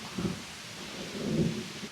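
Low thunder rolls in two swelling rumbles outdoors before a rainstorm, steady and moderately distant, with no voices.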